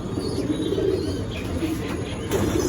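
Giribaz pigeons cooing at a pigeon market, low throaty coos repeating close by in a continuous murmur, with faint chirps and no speech.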